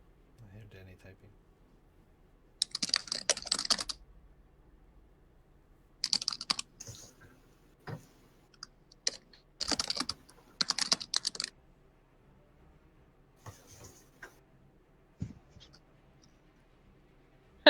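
Danny typing on a computer keyboard in several clattering bursts of keystrokes separated by pauses, close and fairly crisp, with some talk mixed in.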